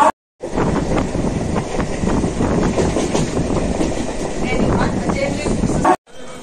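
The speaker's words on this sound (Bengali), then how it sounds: "চলুন এবার আস্তে আস্তে আমরা ট্রেনে উঠি।" A train running after passengers board on a route in Bengal, with a loud continuous rumble and rattling clatter throughout, briefly cut off at start and end.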